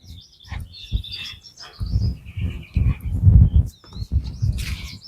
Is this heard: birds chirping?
yes